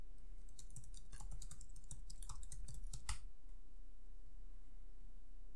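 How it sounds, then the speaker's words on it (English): Quick, light clicks from typing a command on a computer keyboard, a burst of keystrokes lasting about three seconds and then stopping, heard close up and fairly quiet. "Head to a terminal window or command prompt, and type the following."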